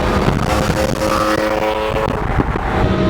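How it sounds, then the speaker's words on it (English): A BMW E46 M3 engine revs loudly and steadily with a raspy, buzzing exhaust tone throughout, close by, with no voices. "when you get in a certain RPM range, you get this kind of raspy sound right there"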